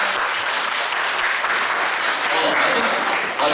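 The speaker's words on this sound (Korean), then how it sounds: "우리 학생부도 박수 한번 쳐주시죠." Audience applause for a student group at a family hymn-singing contest, a steady dense wash of clapping held at even strength for a few seconds.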